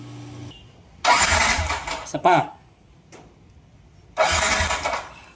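A Yamaha NMAX V1 scooter, left unused for a month, is cranked by its starter in two separate bursts of churning engine noise, each lasting about a second. A short spoken remark falls in the quiet gap between them.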